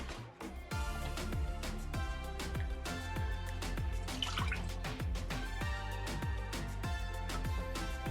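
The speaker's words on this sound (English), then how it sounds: "I'm ladling it because I don't want to disturb the sediment that's on the bottom" Grape juice is ladled off the top of a settled batch, giving a run of close, regular drips and splashes that continue evenly throughout.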